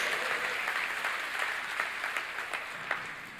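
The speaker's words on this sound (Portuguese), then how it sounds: "Pode dar uma salva de palmas ao Senhor" A church congregation claps during an online worship service, a steady dense roll of hands held at even strength from start to finish, no voices breaking through.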